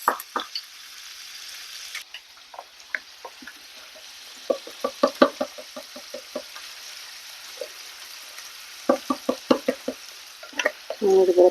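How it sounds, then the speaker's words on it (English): Ground beef sizzles in a frying pan, a soft steady hiss broken by clusters of sharp scraping and stirring clacks. Brief quiet stretches separate the bursts, and a louder scrape comes at the end. "So the ground beef is cooking"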